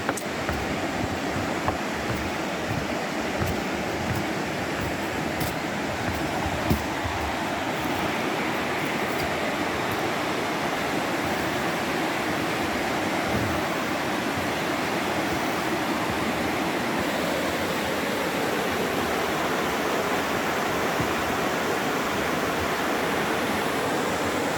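River water flows along a hiking trail in the foothills, a steady, loud, broad rushing wash of current that continues without break, close at hand.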